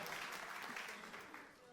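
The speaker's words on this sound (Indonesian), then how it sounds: "Tepuk tangan yang meriah" Lively applause from a church congregation at a Christmas Day service, a dense, steady wash of many hands clapping that fills the whole moment and eases off slightly toward the end.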